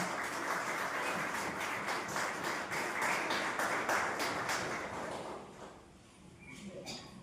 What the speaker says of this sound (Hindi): एक बार जोरदार ताली बजाए ताकि सोने वाले जग जाएं